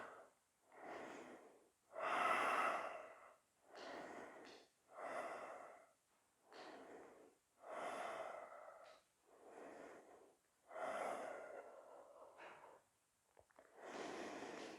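Strong, steady breathing during a yoga flow of spinal twists, about eight forceful inhales and exhales in a slow, even rhythm, close and breathy with short silent gaps between them.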